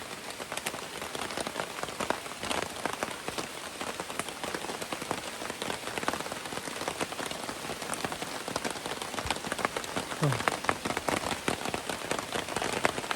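Steady rain pattering on a hard surface outdoors, a dense continuous patter of drops with occasional louder splashes, close by and with no voices.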